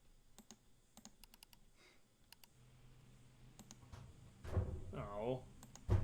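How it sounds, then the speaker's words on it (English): Faint, scattered clicks sound behind the player in a Nancy Drew mystery game, sharp little ticks in uneven bursts under quiet ambience, with a voice talking over the end. "I can hear someone clicking behind me."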